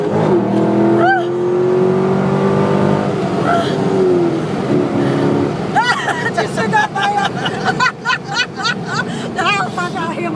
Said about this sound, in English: We are going to take off in the van